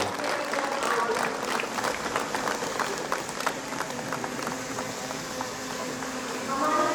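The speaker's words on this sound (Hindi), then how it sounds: "हम लोग तालियों के गड़गड़ाहट से ईश्वर को धन्यवाद देंगे" A congregation at a 150-year church jubilee celebration in Kochang gives thanks to God with prolonged applause, a thick, rolling wall of many hands clapping, steady and fairly loud, with faint voices mixed in.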